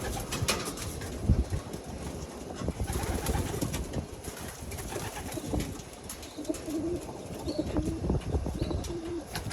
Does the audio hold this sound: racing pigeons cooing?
yes